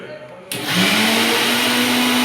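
A mixer grinder whirs to life after a moment of quiet, its loud motor droning steadily and close.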